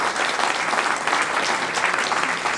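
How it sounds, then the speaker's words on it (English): Conference audience at a digital health innovation event breaks into dense, steady applause, a full round of clapping filling the room for a couple of seconds. "So please, a round of applause."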